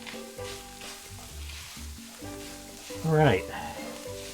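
Tomato paste sizzles and browns in a cast iron pan over medium-low heat for tacos, a steady soft crackle with a brief louder scrape of stirring near the end, while a voice speaks briefly.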